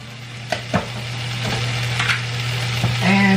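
Butter sizzles steadily in a pan while cooking fajitas, a continuous close hiss over a low hum, broken by a few light clinks and scrapes of a utensil.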